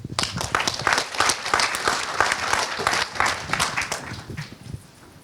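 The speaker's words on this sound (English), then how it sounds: "So please give me a warm round of applause for Henek." Audience applause at a digital business conference welcoming a speaker to the stage, dense steady clapping from a full room that holds for about five seconds before thinning and fading out at the end.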